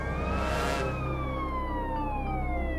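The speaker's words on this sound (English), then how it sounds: "activated my emergency equipment, which are lights and sirens" A police car's lights-and-sirens equipment, switched on by an officer pursuing a driver, sounds a loud, continuous wail that slowly glides downward in pitch over steady road noise, with no talking.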